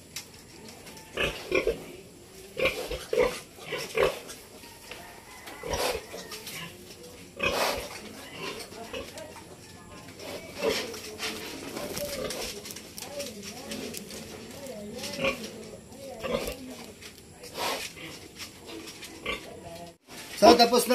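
Pigs on a farm grunt, oink and give short squeals in scattered bursts after being injected, close by, with a person talking intermittently between them.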